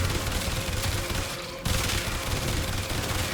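The Coda Hema in the Warframe video game fires a continuous, loud burst of rapid shots at an increased fire rate, with one short gap before the stream of fire resumes.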